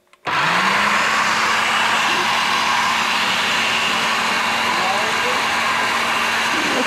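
An electric mixer works pastarelle cookie dough of flour and sugar, starting abruptly with a loud, close, steady whirring hum that holds unbroken for several seconds.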